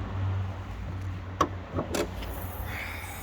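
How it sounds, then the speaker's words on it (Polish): Bonnet of a manual Volvo S40 T5 with the 2.5 turbo five-cylinder being opened by hand on gas struts, giving a sharp latch click and a second clunk about half a second later over a low steady hum, with no talking. "Na szczęście mogę otworzyć jedną ręką sobie maskę."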